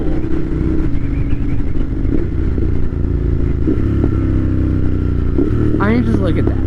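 Ducati Monster 1200S motorcycle engine running with quick-shifter gear changes, a steady throbbing drone broken by brief dips and rises in pitch at each shift, with a sharper rev burst near the end.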